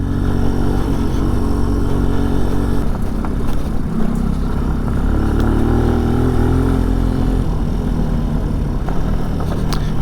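A Benelli Tornado TNT 125 motorcycle on knobbly tyres pulls uphill on a loose, rocky dirt road, its small engine droning steadily and loudly at close range for the whole stretch, with no talk.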